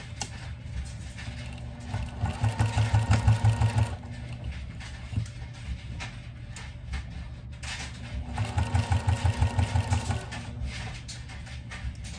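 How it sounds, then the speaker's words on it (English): A sewing machine stitches quilt pieces at a quarter-inch seam in two steady whirring runs of rapid needle clatter, close and alone with a quiet pause between them. "And stitch this at 1/4 of an inch."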